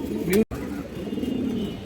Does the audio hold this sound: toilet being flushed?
no